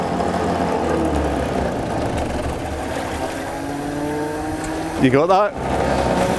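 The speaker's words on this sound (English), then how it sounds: "That's the hauler passing" An electric hauler on an all-electric lobster fishing boat straining against a heavy mooring, a steady motor hum with a sharp whining sweep near the end; someone speaks briefly.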